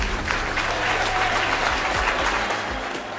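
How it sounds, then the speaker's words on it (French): Boxing crowd applauding after a women's bout, a loud continuous roar of clapping from a full audience, with some crowd noise mixed in. "sous les applaudissements du public"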